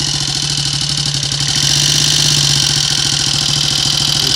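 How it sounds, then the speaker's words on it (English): Triumph Sports Cub motorcycle engine running close by with a steady, rough mechanical idle, then the throttle is blipped and the engine note rises and holds louder and busier. "Frightening when I blip the throttle."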